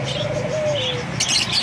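A pigeon coos softly at its nest, one low drawn-out call heard close, followed by a brief rustle or flutter near the end.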